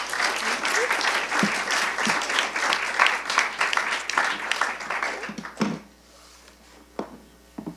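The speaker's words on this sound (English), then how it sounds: "please give her a round of applause" An audience at a 2024 FAEA awards ceremony claps in a dense, sustained round of applause for a guest speaker, fading to scattered claps near the end.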